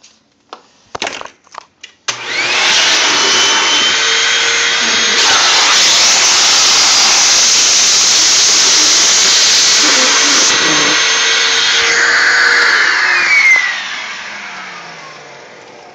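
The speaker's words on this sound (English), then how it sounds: "I will demonstrate vacuuming the crevice in my wood floor" Hoover Windtunnel self-propelled vacuum cleaner with a crevice tool working a gap in a wood floor: a few clicks, then a loud, steady whining suction roar that runs for about twelve seconds and cuts off near the end.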